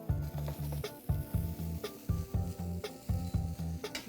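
Chicken hitting hot oil in a pot, with a steady close sizzle broken by rhythmic bursts of stirring and scraping and a few sharp utensil taps against the pot.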